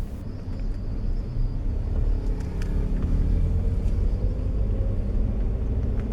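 A manual car pulls out and crosses onto a main road while shifting from first into second gear, a steady close engine rumble and road noise that swells slightly mid-way.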